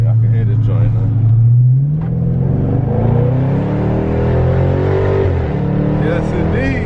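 Dodge Charger Scat Pack with a muffler delete, its exhaust rumbling loudly up close and rising in pitch as the engine revs, with a deep steady drone throughout.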